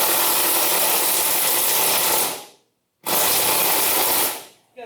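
Impact wrench working bolts loose on a Toyota Prius, two sustained harsh rattling bursts of roughly two seconds each with a brief silence between, loud and close, no voices.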